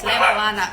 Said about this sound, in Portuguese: Desculpa o meu cachorro